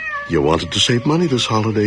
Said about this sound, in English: That's the sound of your in-law's cat perched over your bed at 3 a.m.